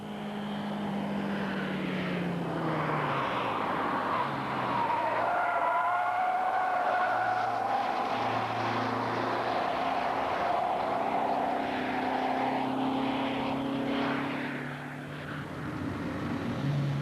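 A race car coasts through a corner on a motor racing circuit, its engine note a steady drone that shifts in pitch as it rounds the bend, with a faint skid-like hiss mixed in throughout.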